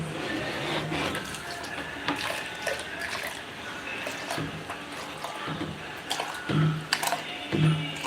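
Water poured out for a child to drink, a splashing trickle with small drips and knocks, fairly close, continuing in short bursts without speech.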